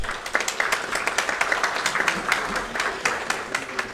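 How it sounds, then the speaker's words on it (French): At an award ceremony, the audience claps in crisp, separate bursts that sound fairly close, a lively irregular patter of many hands at moderate loudness. "Je vous demanderai, Mesdames, Messieurs, de l'applaudir encore très fort."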